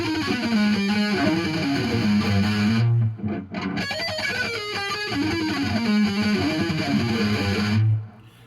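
Distorted electric guitar with chorus effect playing a fast harmonic minor lick with sixteenth note triplet flourishes, loud and upfront, phrase repeated twice with a brief pause between.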